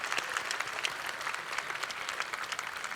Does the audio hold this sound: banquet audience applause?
yes